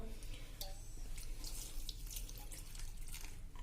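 Water poured over tamarind in a bowl to soak for chutney: a faint, steady trickle and splash heard close by, with no talk.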